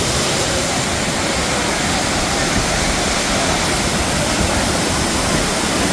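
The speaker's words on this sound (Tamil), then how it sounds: "மேலேருந்து விழுற தண்ணி கீழே அப்படியே ஓடி வருது." Thirparappu Falls waterfall pouring and splashing into the pool below, a loud, steady, dense roar of falling water with no pauses.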